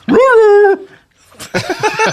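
A dog gives a single drawn-out rising whimper, pauses briefly, then lets out a quick burst of sharp yips and barks, close and loud.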